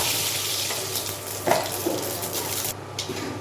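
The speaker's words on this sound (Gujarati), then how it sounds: "અહીંયા તેલ મૂકી દીધું અને 1 ચમચી રાઈ જીરું ઉમેરી દઈશું" Mustard seeds and cumin crackle and sizzle in hot oil for a tempering for mixed dal, a steady close frying hiss with a few brief pops and stirring sounds.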